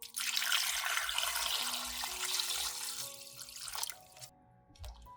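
Tap water runs into a bowl of salted chicken feet, a steady close splashing stream for about four seconds that cuts off abruptly, followed by a faint clink.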